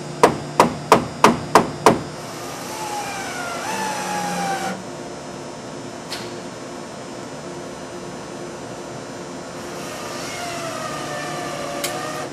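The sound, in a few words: wooden block tapping car wash wall panel into place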